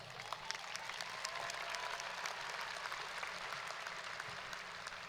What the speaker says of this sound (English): It's appropriate you would applaud.